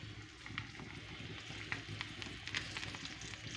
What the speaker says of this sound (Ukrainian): Рибку я жарю цілою